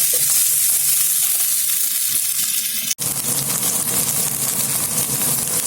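Macaroni and instant noodles frying in a pan, giving a loud, continuous close sizzle with a brief break midway and no voices.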